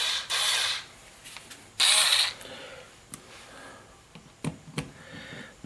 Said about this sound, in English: I'm just going to use a couple of drywall screws right now.